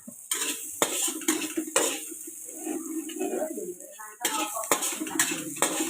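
Onions are stir-fried in a large ordinary wok, with a metal spatula scraping and clanking against the pan in repeated sharp strokes and a soft sizzle underneath, heard up close.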